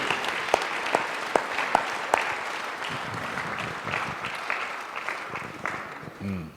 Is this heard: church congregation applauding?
yes